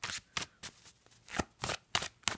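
Tarot of Dreams tarot cards shuffled by hand in several quick rustling bursts, each a crisp riffle of card stock, close and fairly loud with short pauses between, no talking over it.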